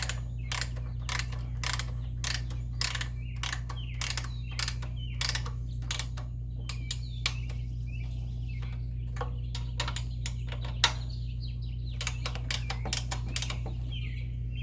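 Bolts on a boat trailer being tightened, likely with a ratchet wrench, giving a steady series of sharp clicks over a constant low machine hum, fairly close and without speech.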